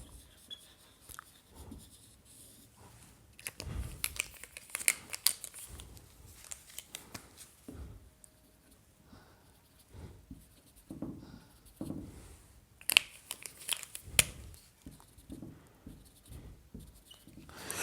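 A pen scratches out a diagram during a biology lecture, giving quiet, intermittent strokes and taps of drawing with short pauses between them and no talk.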